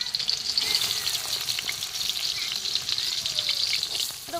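Onions frying in oil for a chicken curry spice base at an outdoor winter village picnic in the Sundarbans, a steady bright sizzle running continuously and evenly at close range with no talk.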